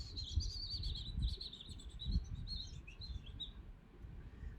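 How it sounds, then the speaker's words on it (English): Newly hatched little birds chirping, a string of high, thin tweets running steadily over a low background rumble, fairly faint and with no voices. "Oh, look at the little birds. They're singing already."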